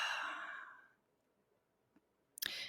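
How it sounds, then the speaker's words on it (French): A long, soft breath let out slowly during a guided meditation, a broad airy hiss that fades over about a second, followed by quiet, a faint tick and a brief rustle near the end. "On expire, on laisse aller."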